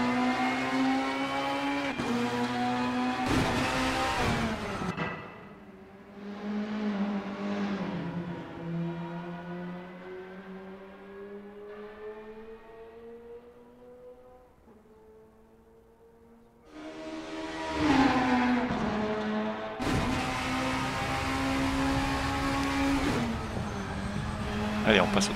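Race car engine in the Assetto Corsa driving game, a steady droning note that rises through the gears with brief drops at shifts, loud and up close, with no voices over it.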